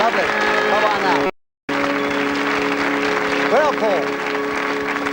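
Studio audience applause on a 1984 British game show, steady dense clapping that breaks off briefly and then resumes, with a host talking over it and music tones sounding underneath.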